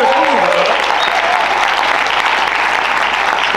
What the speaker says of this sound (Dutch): Geef die mensen een applaus,